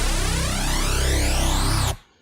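Full electronic drop with a detuned sub-bass pad rich in upper harmonics and a resampled one-shot lead layered together, dense and loud with a sweeping rising riser, cutting off abruptly near the end.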